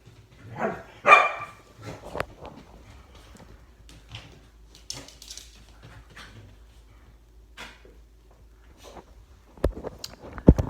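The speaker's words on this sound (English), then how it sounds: "I have dogs." Dogs bark at home in a few short, sharp bursts spread across a mostly quiet stretch, with the loudest barks near the start and the end.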